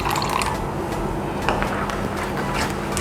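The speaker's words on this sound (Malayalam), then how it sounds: "വേണമെങ്കിൽ ഒരു അല്പം വെള്ളം കൂടി, അതായത് ഒരു 1/4 കപ്പിൻ്റെ കുറച്ച്," Water trickles and splashes steadily into a wheat flour and jaggery dosa batter for about three seconds, heard close and alone.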